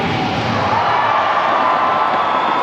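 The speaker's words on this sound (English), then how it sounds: "Right, big cheer accompanying the not out." A loud, sustained roar of a cricket crowd at an India vs West Indies Champions Trophy match, cheers and whoops swelling together as the batsman is given not out.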